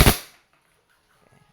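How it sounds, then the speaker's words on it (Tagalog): An E&C airsoft Glock 18C pistol fires in full auto mode. It gives one sharp, close burst that dies away in a fraction of a second, then near silence. "full auto mode. Firing."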